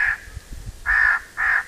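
Crows caw loudly and close during a Florida crow hunt, three harsh calls with short gaps between them, over faint low rustling.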